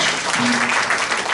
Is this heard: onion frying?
no